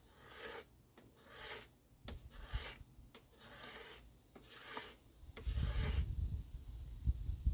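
A hand tool scrapes the limb of a 72-inch red oak board longbow in repeated rasping strokes, each a short burst with pauses between, ending in a louder, denser stretch of scraping.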